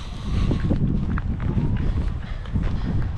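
Footsteps crunch across a construction site where monolithic concrete has been poured, steady close walking on rough ground with a little wind, carrying on alone without talk.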